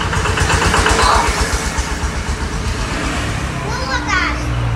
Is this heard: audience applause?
no